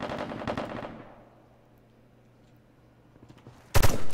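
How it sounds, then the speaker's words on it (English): Bursts of rapid video game gunfire down a hospital hallway at the start, a quiet stretch with faint ambient noise, then another loud volley of shots near the end. "some fire being traded down the hospital hallway"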